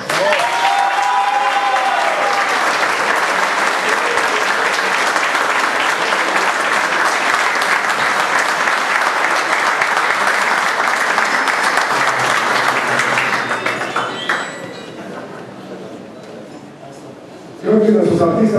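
An audience at a cultural stage show in Ciudad Madero applauds loudly and steadily, the clapping tapering off near the end before a voice speaks.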